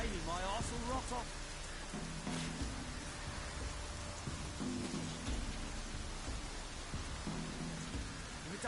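Steady rain in The Witcher video game, a dense even hiss with soft low rumbles throughout, while someone talks in bursts over it.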